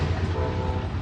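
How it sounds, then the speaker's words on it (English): A passing train rumbles loudly on a cold, foggy day, giving a steady, close mechanical roar with a low droning hum and no talking over it. "Is it train passing by?"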